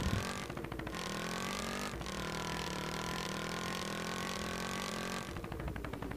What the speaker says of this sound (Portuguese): Olha o barulho dessa moto